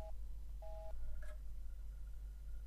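Electronic phone tones from The X-Files video game: a few short, clean dial-tone beeps in separate pulses over a low steady hum, faint and with no talking.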